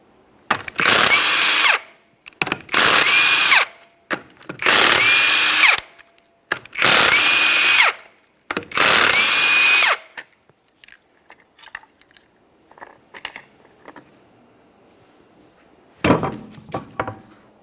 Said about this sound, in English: remove all 5 of your 19mm lug nuts and we can get this off of here